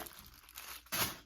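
Rustling tissue paper crinkles softly, then a louder crisp crunch of paper being handled near the end.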